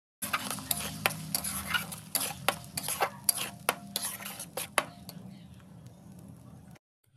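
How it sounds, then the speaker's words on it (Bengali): Spinach paste being stirred into spice masala in a pan for palak paneer, a spoon scraping and clacking against the pan in irregular close strokes over a soft sizzle, then stopping abruptly. "পালং শাকটা মশলার সাথে আবারও মিশিয়ে নেব"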